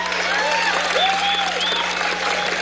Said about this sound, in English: Y'all are happy you're even clapping for a bridge.